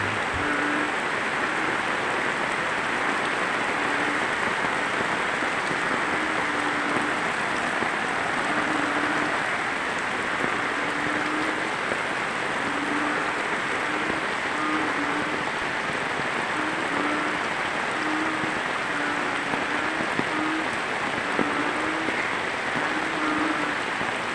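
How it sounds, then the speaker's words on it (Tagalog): Heavy rain in the Bicol region of the Philippines from a low pressure area pours down continuously, a dense, loud hiss of drops on surfaces with no voices. "Napakalakas ng ulan."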